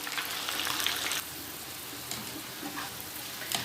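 Onions sizzle steadily in hot oil in a frying pan, a constant close crackle that briefly thins and then returns with small bursts of spitting, with no voices.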